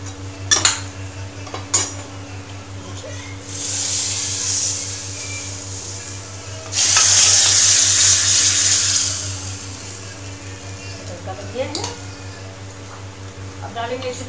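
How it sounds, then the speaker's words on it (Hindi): Hot tadka tempering with Kashmiri red chilli is poured into a pan of vegetable curry, giving two strong bursts of hissing sizzle over a low kitchen hum, with scattered clinks of utensils before and after. "अब ये देखिए सब्जी में हम लगा देते हैं तड़का"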